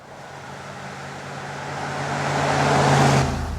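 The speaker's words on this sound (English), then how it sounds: "Flip the accelerator on the F150 and you realise what this beast is all about." Ford F150 Lightning electric pickup accelerating, a low hum and whine that swells louder over a few seconds and then cuts off, heard up close with no talking.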